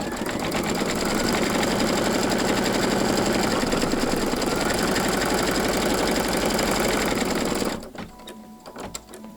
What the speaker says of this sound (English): Let's do our placement stitch for the inner part of our ear with our pink thread.